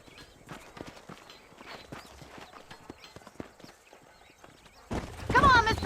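Horse hooves clip-clop in a steady walking rhythm in Red Dead Redemption, then a loud close whinny breaks out near the end, with speech over the sounds.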